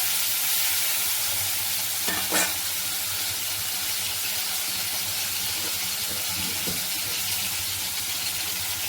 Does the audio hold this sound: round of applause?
no